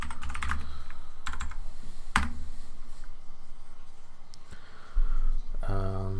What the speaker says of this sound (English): I've been on and off my mechanical keyboard lately